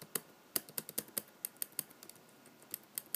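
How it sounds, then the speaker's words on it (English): Loose top-row keys on a Lenovo Yoga 13 ultrabook keyboard tapped in an irregular series of sharp, thin clicks with a metallic edge, close and quiet, with no voice over them. "whenever you touch the top row of keys, you can hear like metal touching metal"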